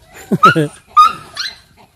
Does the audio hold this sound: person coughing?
no